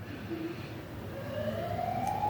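A distant emergency vehicle siren passing somewhere outside, faint and rising in a slow wail through background hum, growing a little louder toward the end.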